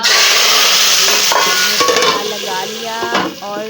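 Hot oil sizzles and crackles loudly and continuously in a pan as a tadka tempering for dal cooks, with occasional clinks of a spoon stirring against metal.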